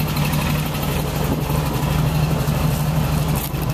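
A small 1957 Beck Speedster rear engine idles steadily with a low, even hum and a constant mechanical drone.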